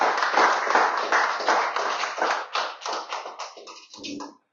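Church congregation applause during a Spanish-language service, a close, dense burst of many hands clapping that thins into scattered claps and stops abruptly.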